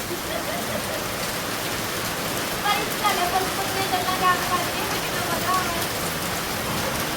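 Rain falling after a dust storm makes a steady, dense hiss that continues throughout, with a few faint bird chirps near the middle.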